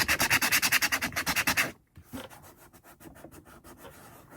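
Something rubs rust on an aged travel sewing kit in quick, even scraping strokes up close, then stops briefly and goes on with lighter, slower strokes.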